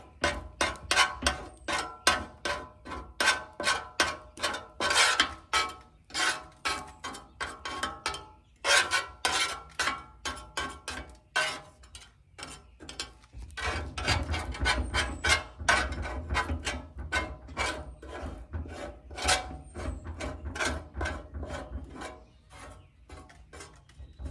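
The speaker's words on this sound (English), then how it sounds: "So before that gets cool, I'm going to just scrape that off" Metal scraper pushing grease across a hot Blackstone griddle, with repeated rhythmic rasping strokes up close, steady and continuous throughout.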